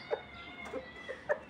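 A gamecock rooster makes several short, separate clucking calls, fairly close and moderately quiet, spaced irregularly across a brief stretch with no speech.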